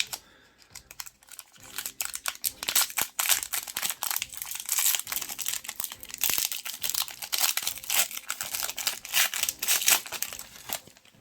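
Trading cards being handled at close range, a dense run of crisp clicks, snaps and crinkles from popping corners, fairly loud and continuous with brief pauses.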